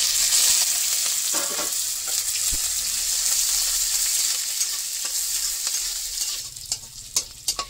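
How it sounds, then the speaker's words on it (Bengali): Chopped onion, garlic and green chilli frying in oil with dried chilli and ajwain, a steady close sizzle with stirring and a few clinks toward the end, no voices. "এই যে পেঁয়াজ, রসুন, কাঁচামরিচ কাটিয়ে রাখলাম,"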